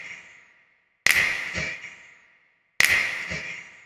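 A snap clap sample for music production plays twice in isolation, each a sharp, bright crack with a short airy tail, evenly spaced and fairly close.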